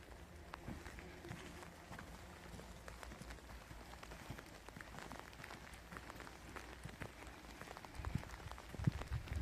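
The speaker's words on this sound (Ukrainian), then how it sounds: "Боже, який валить дощ, і ми під ним ходимо" Heavy rain pours steadily on an outdoor garden walk among ornamental apple trees in autumn, a dense hiss with scattered drops and soft footsteps, louder splashes near the end.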